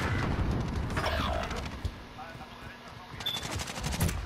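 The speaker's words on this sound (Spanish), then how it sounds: "Hay gente disparando ahí al lado de ustedes" Rapid automatic gunfire in the online shooter Warzone crackles steadily through the first couple of seconds, then thins into scattered shots and a late loud burst, with players talking over the action.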